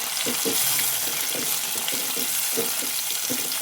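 Tomato goes into a browning mixture in a hot pan, producing a loud, steady frying sizzle with dense crackling hiss and faint stirring taps throughout.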